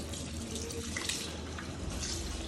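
Water runs steadily from a kitchen tap and drains through a mesh strainer while rice is washed, a close, continuous splashing hiss with no talking.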